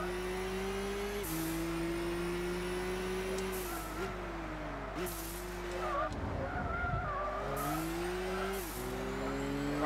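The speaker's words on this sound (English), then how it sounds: "we are catching up with the car now" A race car engine in Gran Turismo 6 on a world circuit tour, revving high and steady, with repeated upshifts dropping the pitch every second or so and a brief burst of tire squeal midway.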